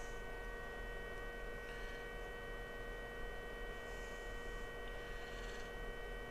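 A Mini-Ductor handheld induction heater hums steadily around a rusted bolt, a constant mains-like drone with high tonal whine held unchanged throughout, with faint brief hiss bursts near the end.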